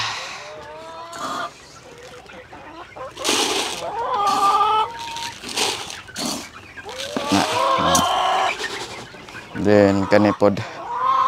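Farm chickens cluck and squawk during feeding, close and intermittent among splashes and handling noises, while a person talks between the calls.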